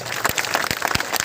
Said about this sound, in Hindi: ताली, जोर से ताली बजाइए।